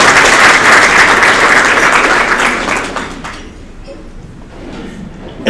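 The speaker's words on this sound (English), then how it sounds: "let's give you guys a hand clap" Audience applause at a tenth anniversary celebration event, loud dense clapping for about three seconds before fading away to quiet room tone.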